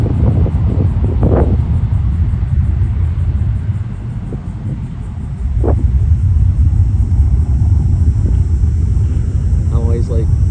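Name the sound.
American Airlines jet engines taking off from Myrtle Beach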